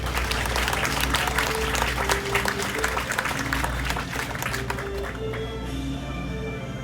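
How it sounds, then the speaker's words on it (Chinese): Applause from the audience at a beam-raising ceremony for an aircraft maintenance hangar, welcoming the China Airlines chairman; dense, steady clapping that holds throughout and thins slightly toward the end. "掌声欢迎"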